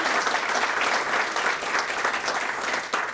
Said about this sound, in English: Give him another applause.